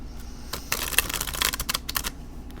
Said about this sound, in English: I mean, they shuffle nicely.